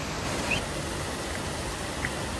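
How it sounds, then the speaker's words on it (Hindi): Heavy rain pours steadily outside a home, a dense, even hiss that holds at moderate level throughout with no voices. "तो हो रही है बाहर झमाझम बारिश"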